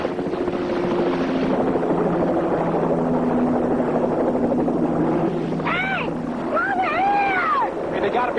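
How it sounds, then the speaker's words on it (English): A helicopter flies overhead with a steady, loud rotor drone throughout, while a few gliding, whistle-like tones sound near the end. "I hear it again. The helicopter's back."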